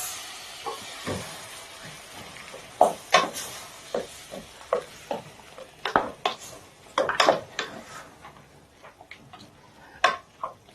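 Stock is added to a wet-fry pan and stirred, producing a series of sharp scraping clinks and knocks of a utensil against the pan over a faint sizzle, irregular but frequent.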